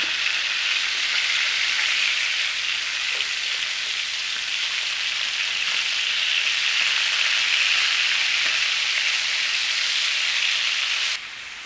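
Pork frying in a pan for a Normandy pork and cider dish, an even, continuous hiss of sizzling fat that holds steady and loud, then drops off suddenly at the very end.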